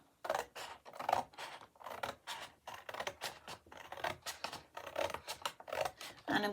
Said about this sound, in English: I'm going to just cut my scissors up to that line there.